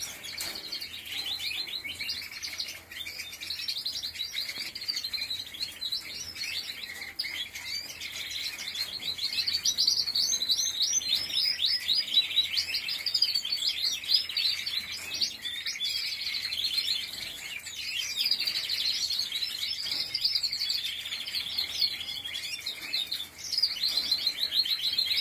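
Wild birds chirp and sing in the early morning, a dense, continuous chorus of quick tweets and trills that stays close and fairly loud throughout, with no voices.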